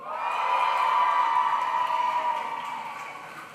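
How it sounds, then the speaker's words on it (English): Large crowd at a graduation ceremony cheering for the graduating class of 2025, a sustained roar of voices and whoops from a distance in a big room, gradually easing off. "let's all give a big cheer for the graduating class of 2025"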